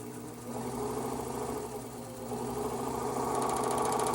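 A serger sewing machine runs steadily while gathering fabric, its close, even mechanical whir holding a constant rhythm and building slightly louder near the end.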